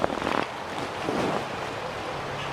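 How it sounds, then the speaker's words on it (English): Wind blows hard outdoors in a steady broadband roar with gusty buffeting against the microphone, near and loud, with no talking. "Got a lot of wind today."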